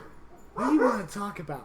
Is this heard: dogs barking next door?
yes